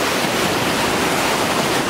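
Whitewater rapids on Upper Collison Creek Rapid on the Upper Gauley river, a loud, steady, continuous roar of rushing water filling the whole clip with no voices.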